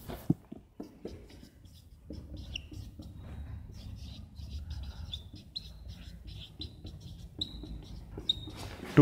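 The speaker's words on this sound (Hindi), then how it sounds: "थोड़ा बड़ा लिखता हूं," Handwriting makes faint, scratchy, intermittent strokes that come in short irregular bursts with small taps between them, against a quiet background.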